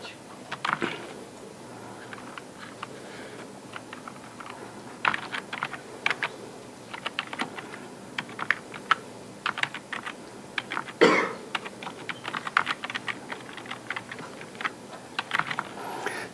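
Command being typed on a computer keyboard during an operating systems lecture, irregular bursts of sharp key clicks with brief pauses between runs, close and clear with no talking.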